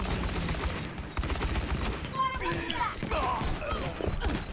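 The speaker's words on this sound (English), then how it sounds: "And now they all freaking flashbang me" Overwatch flashbang stuns going off amid a dense barrage of game gunfire and crashes, loud and continuous, with tonal ringing effects layered in over the last couple of seconds.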